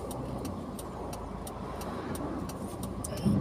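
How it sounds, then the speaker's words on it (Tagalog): Dense highway traffic roars steadily nearby, with cars and engines droning in a continuous wash of road noise, joined by a louder engine swell near the end. "Wow, kapal po ng sasakyan."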